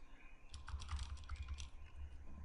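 Rapid, random typing on a computer keyboard while setting up a cloud server, a dense run of soft clicking keystrokes close by and fairly quiet, with no speech.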